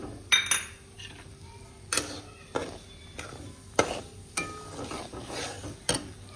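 Bhagar flour roasting in ghee with a spoon scraping and clinking against the pan, irregular metallic knocks about once a second, close and fairly quiet, with no talking.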